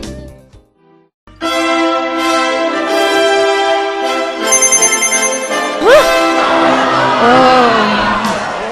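Mobile phone ringtone playing loudly as a bright synthesized melody of sustained tones, starting abruptly after a short pause and followed by rising whoops and crowd reactions.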